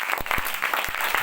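A congregation at a Christian praise service claps loudly in a brief burst of sharp, separate hand claps from a crowd, up close.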